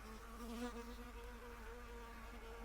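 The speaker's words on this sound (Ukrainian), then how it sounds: "Бджолка." A bee buzzing close by near a cherry tree in an orchard nursery, a steady faint droning hum with slight pitch wavering, heard alone.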